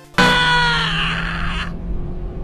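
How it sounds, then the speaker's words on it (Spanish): A loud, sustained scream bursts out abruptly from an Initial D anime dub, holding strong for about a second and a half before cutting off, with no talk around it. "solo es un grito fuerte"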